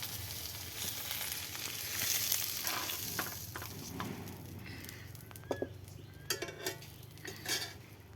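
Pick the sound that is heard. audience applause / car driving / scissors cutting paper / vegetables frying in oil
vegetables frying in oil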